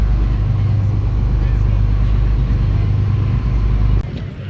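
Sea Bus shuttle boat at Mykonos: a loud, steady low engine drone throughout, easing slightly near the end, with voices talking over it.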